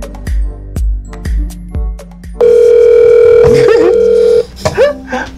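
A telephone dial tone sounds as a call is placed: several dull knocks first, then a loud, steady, unbroken tone lasting about two seconds, followed by brief clicks and voice-like noises.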